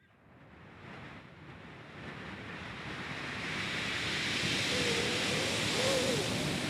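A vocal imitation of sea waves by a sound-mimicry performer: a breathy, rushing hiss that swells steadily louder over several seconds, with no talk.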